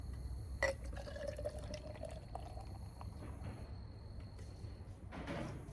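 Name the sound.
pouring Miller beer from a can into a glass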